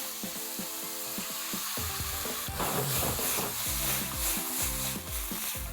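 Chicken coated with red chili powder and kasuri methi fries in a pan for dhaba-style chicken sukka, a steady sizzle under repeated rhythmic scraping and grinding strokes of a spatula, close and busy, no voices.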